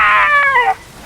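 A single drawn-out dog howl, loud and close, wavering in pitch before breaking off abruptly.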